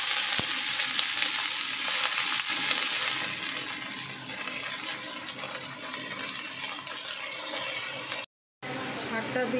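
Amaranth greens hit hot oil with fried onion and garlic in a wok, giving a loud, crackling sizzle that is strongest at first and then settles into a softer, even frying hiss with a brief drop near the end.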